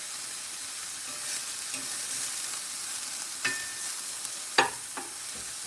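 Ground pork shoulder burgers sizzle steadily as they fry in a pan, a constant close crackle with a few sharper spatters and pops, and no talking over them.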